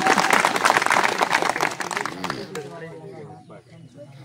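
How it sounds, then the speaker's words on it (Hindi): Loud crowd applause at a village political speech gathering, dense clapping for about two seconds that quickly thins out and fades, leaving scattered claps and murmuring voices. "एक बार जोरदार तालियां।"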